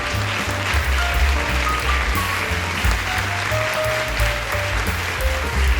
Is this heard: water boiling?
no